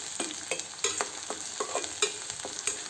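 Onions and curry leaves fry in a pan, giving a steady close sizzle broken by repeated scraping stirs about every half second, with no voices.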